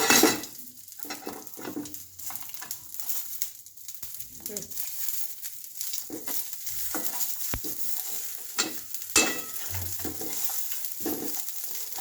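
Curry leaves sizzling in oil in a frying pan and being stirred while making fried sabudana: a steady hiss with scraping utensil strokes and occasional clinks against the pan, close up, with brief speech.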